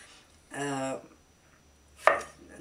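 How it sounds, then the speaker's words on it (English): A knife chops a jalapeno pepper on a cutting board in two short, close bursts of quick cuts separated by a quiet pause. "So now I'm gonna start chopping the jalapeno pepper"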